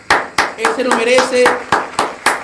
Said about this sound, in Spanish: quiero esos fuertes aplausos